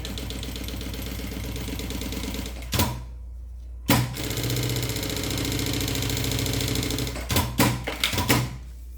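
A sewing machine runs in steady fast buzzing bursts while stitching a seam along the edge of a medium sublimated toiletry bag, stopping briefly twice, then giving a few short stuttering runs at the end.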